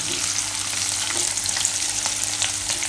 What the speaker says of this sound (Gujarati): કાજુ ને સિંગદાણા થોડાક આમ બ્રાઉન જેવા થવા જોઈએ આ રીતે